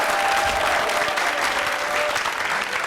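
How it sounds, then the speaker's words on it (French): Continuous loud clapping from a studio audience welcoming a guest, the chancellor Drabo, onto a French-language TV show, steady and dense with a faint voice beneath. "Acclamation pour Drabo, le chancelier"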